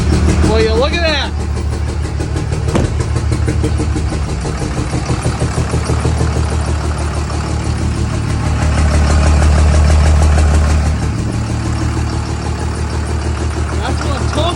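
Car engine cranking, catching and settling into a rough, choppy idle after the fuel pump is switched on, loud and close throughout, with people talking over the running engine.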